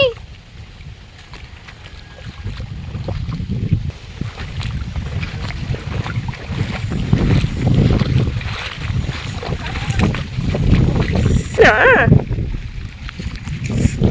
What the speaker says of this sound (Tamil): காற்று செம்ம காற்று அடிக்குது.